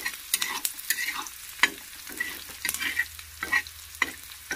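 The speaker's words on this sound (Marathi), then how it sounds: "लाल जरत तळून घ्यायचा कांदा, भाजून चांगला." Onion fries in a pan for a village-style brinjal bharit, sounding as a soft sizzle broken by sharp scraping stirs and clinks at irregular intervals, close by and with no talking.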